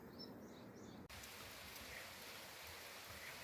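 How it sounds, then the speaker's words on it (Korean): Steady rain falls on the Dalseong wetland, seen from a pavilion, as a dense, even hiss of drops throughout. Faint bird chirps are heard in the first second, with no talking. "비가 내리는 달성 습지입니다."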